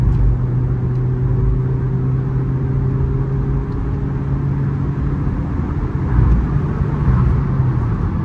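A 2008 Toyota Altis 1.8G automatic sedan on a test drive gives a steady low engine hum and road rumble from inside the cabin, holding a constant drone throughout with no voices.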